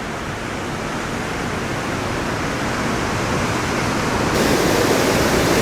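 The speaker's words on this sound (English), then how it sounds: "This is the Jackson Lake Dam." Water rushes through the Jackson Lake Dam in Grand Teton National Park, Wyoming, making a loud, steady, broadband roar like a waterfall that holds constant and swells slightly near the end.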